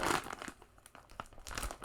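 Rustling of a plastic knitting project bag with a zipper, close and continuous crinkling with sharp crackles through the whole moment, no talking.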